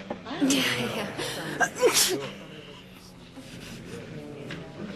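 A sneeze bursts out amid a conversation in a sitcom scene, followed by a second sharp nasal outburst, both fairly close and loud over ongoing background talk.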